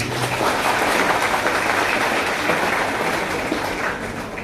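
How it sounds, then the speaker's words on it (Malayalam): Audience applause at a school admission festival and merit day event, a dense, sustained crowd of clapping hands heard alone for several seconds at steady loudness. "വളരെ പ്രത്യേകമായിട്ട് മണി സാർ നമുക്ക് നല്ലൊരു കൈയടി കൊടുക്കും."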